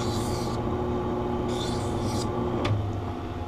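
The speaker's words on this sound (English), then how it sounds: "Do the safety bevel real quick." An eyeglass lens edge gets a quick safety bevel, producing a rough, continuous rasping rub with a few brighter scraping strokes against a steady machine hum.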